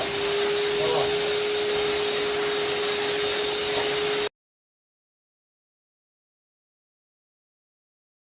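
A cement-glue faux wood floor being scrubbed hard: a continuous, loud, even rasping noise with a steady hum underneath for about four seconds, then abrupt silence.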